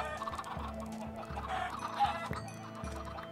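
Chickens cluck in the video game Minecraft, a series of short repeated clucks in quick succession, moderately quiet with nothing else over them.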